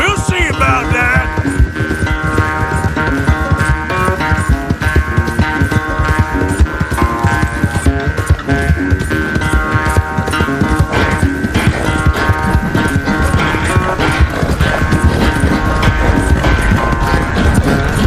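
Horses galloping in a race in the video game Red Dead Redemption 2, a dense continuous drumming of hooves mixed with loud steady humming and game sound throughout, no pauses.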